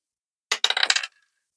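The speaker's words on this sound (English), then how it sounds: "I need the colour dice." A colour die is rolled during a cash stuffing budgeting challenge, making a brief, close clattering rattle that tumbles for about half a second and then stops, with no talk.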